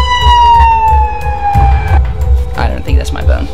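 A loud wailing siren sweeps downward close by, while voices talk excitedly over it.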